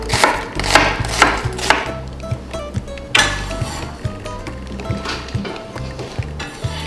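A medium onion chopped with a knife on a board: quick, rhythmic chops in bursts, close and loud, with a faint sizzle and clinks behind.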